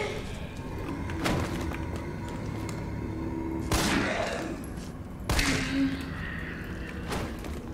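Gunfire in the video game Resident Evil 3: a few sharp shots spaced apart, separated by several seconds, over a low in-game ambient rumble.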